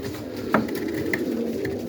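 A pigeon coos close by, a soft low call with a brief swell midway, over a steady murmur of other birds in a dovecote.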